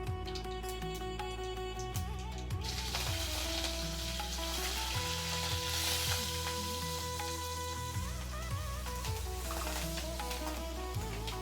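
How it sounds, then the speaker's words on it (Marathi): Mustard seeds splutter in hot oil with cumin added, giving a continuous close crackling sizzle with dense popping throughout and tonal background music underneath. "तेल गरम झालेलं आहे आपलं. छान मोहरी तडतडती आहे."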